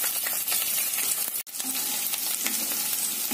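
Potatoes with green chillies frying in a pan for sabudana khichdi, a steady close sizzle with light crackle throughout and one brief dropout near the middle.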